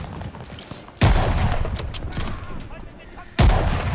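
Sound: gunfire in Call of Duty: Vanguard video game

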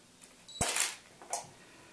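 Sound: camera shutter taking test shots for product photos

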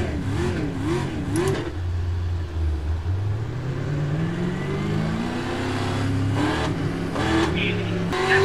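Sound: race truck engines in iRacing video game

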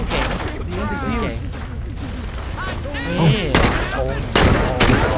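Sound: gunfire in video game Saints Row 2

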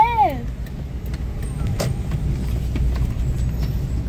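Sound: car driving by below

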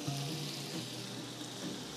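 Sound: butter sizzling in a pan

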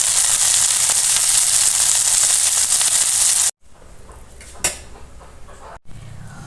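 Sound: home-grown eggplant frying with chili and onion

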